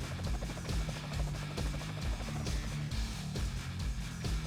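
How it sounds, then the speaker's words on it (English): A helicopter in the real-time strategy game Red Alert 2 gives off a steady, rhythmic rotor thrum with low pulsing beats. It plays continuously at moderate volume with no talk over it. "Helicopter"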